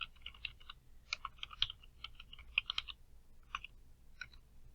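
Typing on a computer keyboard, quick irregular runs of light, close clicks with short pauses between bursts, quiet and without any talking.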